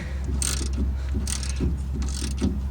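Repeated ratcheting clicks and metallic grinding in short bursts, with a steady engine hum underneath, as a wrench works a nut loose during a shock replacement on a 2007 Ford Ranger.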